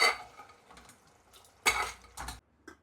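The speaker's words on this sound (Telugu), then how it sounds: "బిర్యానీ రైస్ అయితే వేడి చేస్తున్నా. ఇంకా దాంట్లో నుంచి ముక్కలు తీసి కొద్దిగా కర్రీలాగా చేస్తున్నా." Biryani rice and mutton pieces reheat in a pan, heard as a few quiet, brief clinks and scrapes of a utensil against metal with pauses between them. No voices are heard.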